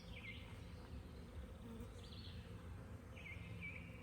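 Honeybees buzz around a hive in a low, continuous hum, quiet and close, with a few brief higher whines of individual bees passing near.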